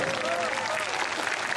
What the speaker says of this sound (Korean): 남기훈 선생님께 박수 한번 부탁드리겠습니다